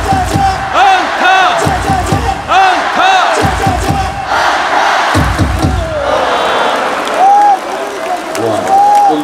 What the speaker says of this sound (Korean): 박수 세 번 치고 안타를 외쳐주세요.